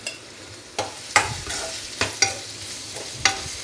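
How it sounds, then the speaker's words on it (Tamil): Mango pachadi with chili powder cooks in oil as a spoon scrapes the pan in sharp, close strokes roughly every half second, over a low sizzle with no talking. "நல்லா மிளகாத்தூள் சேர்த்துட்டு எண்ணெயிலே கொஞ்ச நேரம் வதங்கட்டும்"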